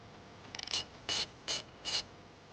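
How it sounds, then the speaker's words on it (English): Ratchet with a 13mm socket loosening a battery terminal nut on a 2014 Jeep Grand Cherokee: a quick burst of fine clicks, then three short separate ratcheting strokes, close and quiet, with no speech. "now we're going to go ahead and remove the battery terminal nut"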